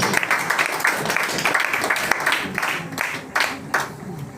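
A church congregation bursts into sustained applause, many hands clapping in a dense, uneven rhythm with a few louder claps standing out, close and lively, with some voices mixed in.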